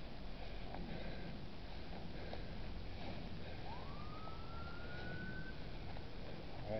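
A police car siren rises once in a single faint, distant wail outside a decaying old arms factory, set against a constant background hiss.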